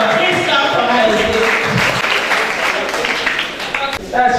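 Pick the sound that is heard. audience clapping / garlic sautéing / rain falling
audience clapping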